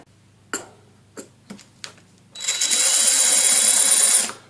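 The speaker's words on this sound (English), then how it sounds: "See, the drill started straight away." A power drill fitted with an ordinary masonry bit runs in rotary mode, a steady close whirring grind held for about two seconds after a few sharp taps beforehand.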